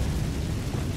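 Incendio fire spell cast in Hogwarts Legacy, a dense low roaring burst of flame that holds steady and loud through one second without any speech over it.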